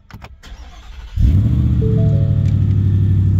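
Ford Raptor R pickup engine starting: a few faint clicks and low rustle, then the engine catches with a sudden loud crank and settles into a deep, steady exhaust idle rumble close by.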